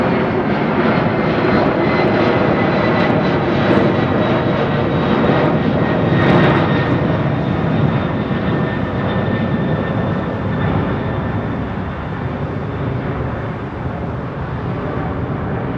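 Jet airliner departing Heathrow with its landing gear still down, Vietnam flight 78, a loud sustained engine roar with a steady whine, close and continuous throughout, no voices.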